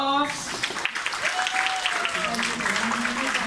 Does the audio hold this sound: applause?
yes